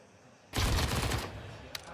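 A sustained burst of rapid automatic gunfire from a Counter-Strike match at the IEM Chengdu 2024 semifinals, loud and dense for about a second, then tailing off with a final sharp shot.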